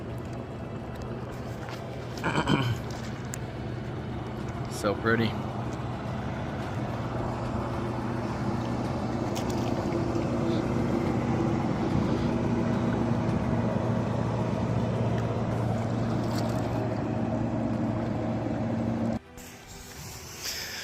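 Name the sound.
motorboat passing on river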